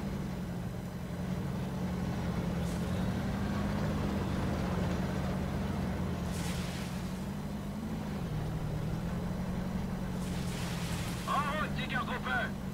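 The engine of a Tiger tank in Company of Heroes: Tales of Valor runs with a steady, deep rumbling drone, while voices speak over it and brief bursts of other game noise break in.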